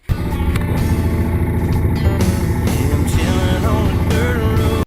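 A Honda Fourtrax 300 ATV churns through a deep mud hole on a Louisiana trail ride, its engine revving loudly and continuously up close with a rough, buzzing drone.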